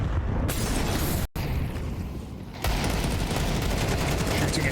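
Counter-Strike gunfire during a professional esports match, G2 versus Eternal Fire, with sustained loud, dense shooting and crowd-like roar filling the clip, briefly cut by a dropout, then continuing steadily.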